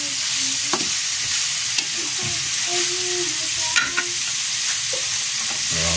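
Pork ribs for adobo, boiled beforehand, are stirred as they fry in a pan, giving a loud continuous sizzle broken by occasional scraping and knocking of the utensil.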